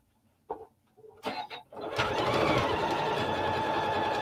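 A sewing machine runs steadily at 5 and 5 settings, stitching a quilted pin display. A few short taps and starts come first, then a continuous close whirring drone with no talk over it.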